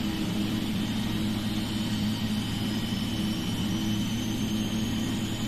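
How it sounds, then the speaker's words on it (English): A Boeing 777 jet engine starts up in the FSX flight simulator, giving a steady, loud low rumble with a rising high whine as it spools. The sound is continuous and nobody speaks. "Start left engine."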